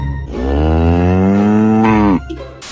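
One long, loud cow moo used as a sound effect, a deep sustained bellow held for nearly two seconds before cutting off, followed by brief rustling.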